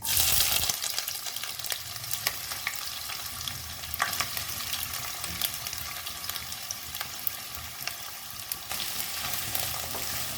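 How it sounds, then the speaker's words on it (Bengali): Onions sizzle and crackle steadily in hot oil in a wok, a dense close frying hiss broken by scattered stirring scrapes and pops throughout, with no voices. "পেঁয়াজটা ভালো করে ভেজে ভেজে নেব।"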